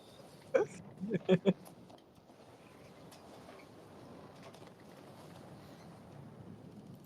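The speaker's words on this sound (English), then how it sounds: "There is little noise apart from the waves crashing against the hull of the ship." Waves wash against a ship's hull at night in a steady, low, rushing wash, with a few short knocks near the start.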